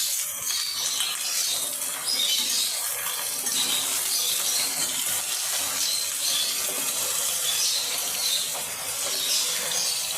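Cut potatoes fry in hot oil with reddened chillies and onion, a continuous bright hiss and crackle close by, steady throughout without talk.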